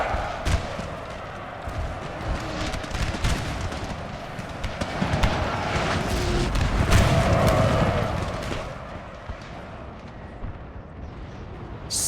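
Napoleonic-era artillery in a Napoleon: Total War battle sounds as dense, rumbling cannon fire, with sharp booms piling into a continuous roar that swells midway and then eases.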